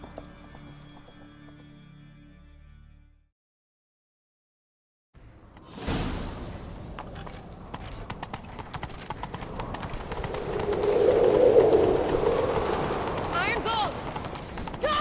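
Horse hooves galloping in The Witcher 3: Wild Hunt: after a short lull, a loud, steady clip-clop of running hooves builds and swells toward the end, with a brief stretch of voice or music at the very start.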